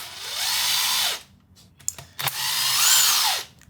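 A power drill or impact tool runs two long bursts, each rising and falling in pitch as bolts come out of an old 1955 Ford F100 pickup, with a few clanks and rattles in the pause between them.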